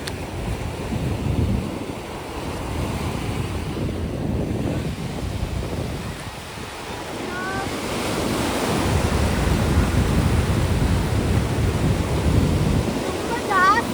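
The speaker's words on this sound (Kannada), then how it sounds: "ತುಂಬ ಜಾಸ್ತಿ ಅಲೆಗಳು ಬರ್ತಿತ್ತು" Sea waves crash and wash onto a Sri Lanka beach in a loud, continuous roar that swells and ebbs, with heavy wind buffeting the microphone and a faint voice briefly audible.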